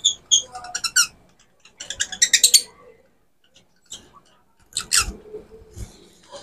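A newly hatched chick gives bursts of high, thin peeping chirps in short clusters, close by, with quiet pauses between them and some faint rustling and handling noise underneath.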